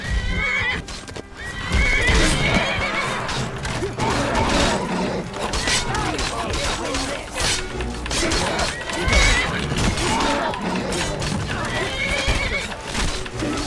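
Several horses neigh and whinny repeatedly in the video game The Elder Scrolls V, over clip-clopping hooves and clattering action, with occasional voices mixed in throughout.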